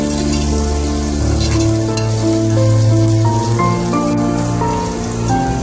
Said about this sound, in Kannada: ಚೆನ್ನಾಗಿ ಫ್ರೈ ಮಾಡ್ಕೊಳ್ಳಿ, ಎಲ್ಲ ಚೆನ್ನಾಗಿ ಮಿಕ್ಸ್ ಮಾಡ್ಕೊಳ್ಳಿ.